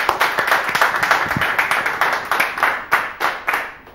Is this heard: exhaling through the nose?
no